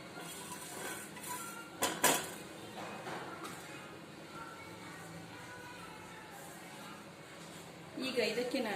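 A pinch of fenugreek seeds is lightly roasted in a pan over a slow flame, with soft scraping and a few sharp metallic clinks of utensil on pan under a faint voice.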